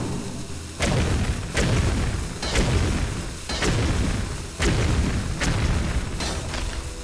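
Six heavy bomb blasts from the Hearthstone video game, each a loud, sharp boom with a rumbling decay, falling roughly once a second with short gaps in between and no talking over them.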